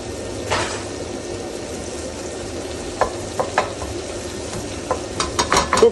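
Onions going into a pan for a one-pot homemade stew, frying with a continuous sizzle close by, followed by several sharp stirring scrapes and utensil knocks toward the end, no voices.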